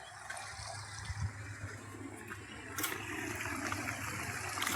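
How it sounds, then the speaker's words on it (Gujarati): Water gushes steadily from a pipe after a pump starts, a low, continuous rushing and splashing that swells slightly toward the end. "પાણી આવી ગયું ચાલુ થઈ ગયું"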